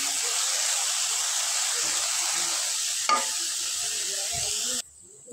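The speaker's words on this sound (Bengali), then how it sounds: "এই যে চিংড়ি শুটকি দিয়ে দিলাম। এখন এটাও ভালোভাবে ভেজে নেব।" Dried shrimp fry in a pan with a constant loud crackling sizzle, one sharp metallic clink of a utensil, then an abrupt cut to near silence.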